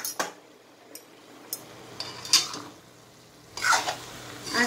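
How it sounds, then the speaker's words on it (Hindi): Pasta is stirred in a pan for an Indian-style masala macaroni, soft scraping and light clinks of a spoon against the pan at intervals over a faint sizzle, close and fairly quiet. "आस्ते आस्ते मिला लेंगे इसको कि टूट ना पाए।"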